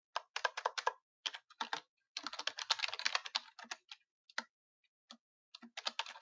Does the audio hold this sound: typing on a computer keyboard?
yes